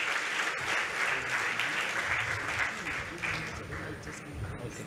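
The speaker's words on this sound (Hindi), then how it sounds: "नीलेश शाह सर के लिए जोरदार तालियां होनी चाहिए" A seminar audience applauds steadily to welcome a speaker, a dense, even wash of clapping from a crowd that holds at moderate level and eases slightly toward the end.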